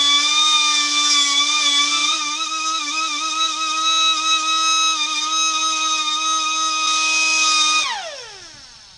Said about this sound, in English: we'll take it and nip it off with the die grinder